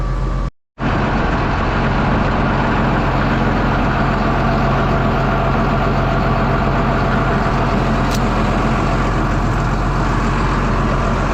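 A steady, loud engine drone runs throughout, a John Deere 8420 tractor motor rumbling continuously with one brief dropout near the start.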